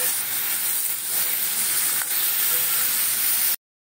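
Hot oil sizzling steadily in a pan while chilli mushroom is cooked, a continuous close hiss that cuts off abruptly near the end.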